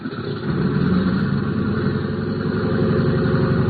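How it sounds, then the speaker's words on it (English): Big airliner engines warming up before a flight to Dallas, staged as a radio drama effect: a loud, steady droning roar that holds evenly throughout, with no voices. "the big plane's engines were warming up for the trip to Dallas"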